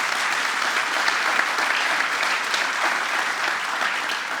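An audience at a Mozart concert applauds steadily and densely for several seconds, with even, continuous clapping and no break.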